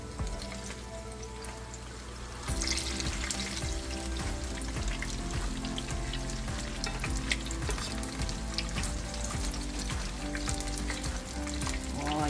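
Turon, banana spring rolls, fry in hot oil with a steady crackling sizzle that grows denser and louder partway through as they are flipped, with occasional utensil clicks and no talk.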